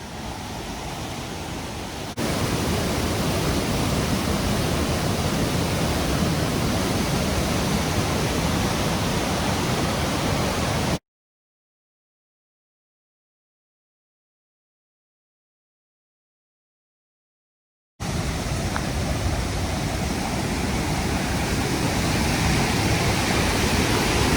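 Steady roar of Stafford Falls in Mount Rainier National Park, a dense broadband rush of falling water heard up close and loud, cut by a stretch of silence before the continuous roar resumes.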